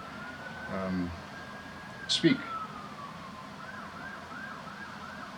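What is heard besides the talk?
siren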